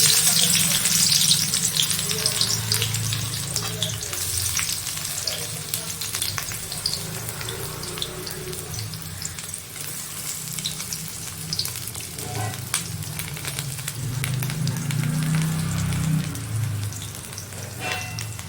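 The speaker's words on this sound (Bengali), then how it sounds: "রসুন, কাঁচা লঙ্কা, ধনেপাতা আর চিংড়ি এগুলো সব একসঙ্গে ভেজে নিচ্ছি।" Garlic, green chilli, coriander and shrimp fry together in hot oil in a pan with onion, giving a loud, steady sizzle and crackle that runs throughout, with occasional stirring and soft speech underneath.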